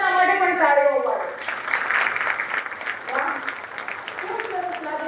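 An audience at a talk on modern mothers and packaged breakfast foods breaks into a burst of applause lasting a few seconds, with a person speaking just before and again as the clapping fades.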